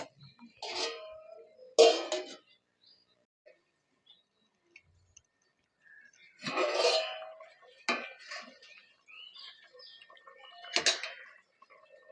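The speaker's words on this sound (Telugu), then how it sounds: "మళ్ళీ మూత అయితే పెట్టేసుకుందాం." A lid set onto a cooking pot while mango and elephant-foot yam tamarind stew cooks, giving a few short metallic clanks and clatters, moderately close, separated by quiet gaps with no talking.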